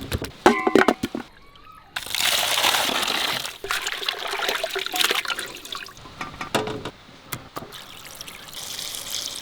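Tap water runs and splashes steadily over chicken drumsticks being washed clean in a kitchen, with a few clattering knocks at the start, then a continuous gushing stream that briefly cuts and resumes, no talking.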